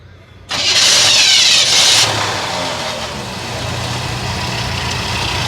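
A propane-converted 1980 Chevy El Camino engine cranks with a brief whirring starter burst, then settles into a quiet, steady idle.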